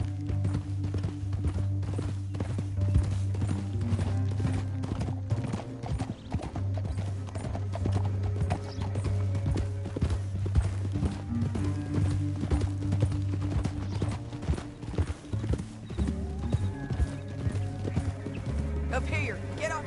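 Hooves of horses in a PS4 video game clatter in a fast, steady galloping rhythm, with a low rumble underneath, continuous throughout.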